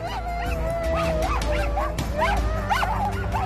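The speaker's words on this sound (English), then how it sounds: "The harnesses can hardly contain the dogs and all their energy." Excited sled dogs in harnesses at the start of a race, barking, yipping and whining close by in a dense, continuous chorus over crowd noise.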